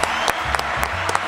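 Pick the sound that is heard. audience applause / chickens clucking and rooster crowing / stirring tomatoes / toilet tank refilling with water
audience applause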